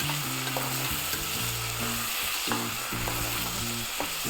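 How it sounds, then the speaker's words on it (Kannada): Tomatoes frying and roasting in a pan make a constant bright sizzle, with a low, stepped musical bass line playing underneath. "ಟೊಮೊಟೊ ಹಾಕೋಬೋಣ ಸ್ವಲ್ಪ ರೋಸ್ಟ್ ಆಗಿ ಟೊಮೊಟೊ"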